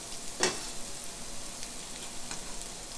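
Chopped onion added to a hot pan for ranchero sauce, a soft even frying hiss with one brief louder crackle near the start, low and steady throughout.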